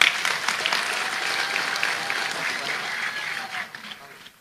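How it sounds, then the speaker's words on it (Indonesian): Large crowd at an outdoor Islamic tabligh akbar gathering in Lombok bursts into sustained applause, broad and steady, tapering off toward the end while a voice rises faintly over it. "Jenengan jangan ikut tepuk tangan saja."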